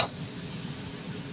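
Chicken frying in a pan, a close, steady sizzle with faint stirring noise throughout the short stretch and no talk.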